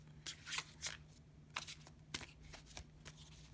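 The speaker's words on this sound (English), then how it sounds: "Let me just give them another shuffle." Tarot cards being shuffled by hand, a quiet run of soft papery riffles and flicks in short bursts over a low steady hum, with no talking.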